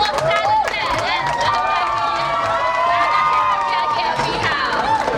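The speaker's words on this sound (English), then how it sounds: "Let's have a huge round of applause. Keep clapping, everyone." A large crowd at a store launch event cheers, shouts and claps continuously, loud and close, with high excited voices and whistles rising above the steady applause.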